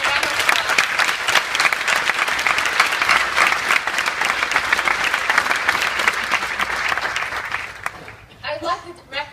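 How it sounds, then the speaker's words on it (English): Loud, sustained applause from a crowd at a graduation ceremony fills the hall for several seconds, then fades as a speaker begins talking. "So please give a round of applause."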